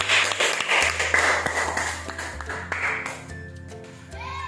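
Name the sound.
applause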